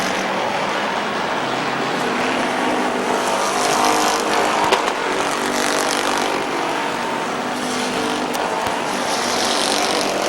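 Race cars roar around the Midvale Speedway oval in a loud, continuous wall of engine noise, one car sounding rough on the front stretch, with no talking.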